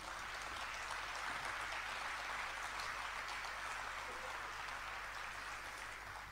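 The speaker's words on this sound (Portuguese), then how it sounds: "Um aplauso para eles, muito grande." A large crowd applauds guests at a concert in a sports pavilion in Anadia, a broad continuous wash of distant clapping without a break.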